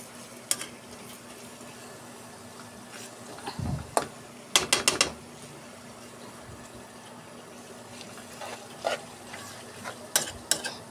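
Chicken pastil sautéing in a little butter while being stirred, a quiet continuous sizzle broken by clusters of sharp utensil scrapes and clacks against the pan, close up with no talk.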